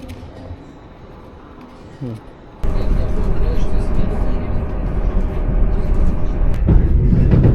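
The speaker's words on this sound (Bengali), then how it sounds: "চলছে ট্রেন তার নিজ গতিতে" After a quieter start, a loud steady rumble of a moving train near Moscow takes over, deep track and engine noise filling the space, with faint murmured voices.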